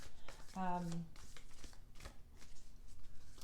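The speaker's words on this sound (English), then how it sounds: "Let me shuffle on camera." A quick riffle of playing cards being shuffled, crisp flutters and taps up close, with a voice speaking alongside.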